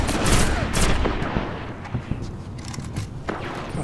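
Gunfire in a Destiny PvP match on Xbox One, a burst of loud, close shots in the opening second followed by scattered fainter reports and rumbling game ambience.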